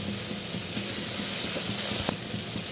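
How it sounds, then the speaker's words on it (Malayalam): Curry leaves sizzling in hot oil with onion, ginger and garlic, a loud dense hiss with soft crackling pops and a single sharp tap near the end. "കുറച്ച് വേപ്പിലിട്ട് കൊടുക്കുന്നുണ്ട്"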